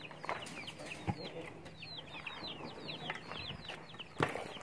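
Chickens at their newly built coop give a steady stream of short, chirpy clucks and calls, with a couple of louder thumps standing out over a continuous farmyard background.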